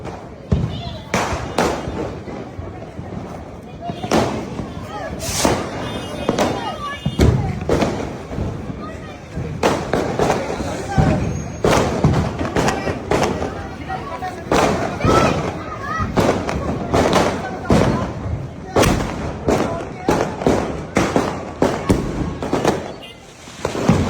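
Diwali firecrackers bursting in a loud, rapid, irregular barrage of sharp cracks and booms close by, with voices talking and calling out between the blasts.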